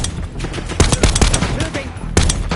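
Gunfire in the Call of Duty Black Ops 6 video game: rapid, loud bursts of shots cracking close by across the full clip, with voices in the game talking over the firefight.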